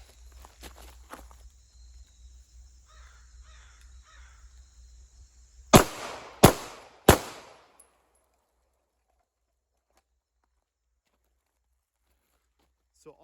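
A pistol with a red dot sight fires three quick, sharp shots at three targets, evenly spaced and loud, each with a short decay, followed by near silence after a quiet stretch of faint handling noise.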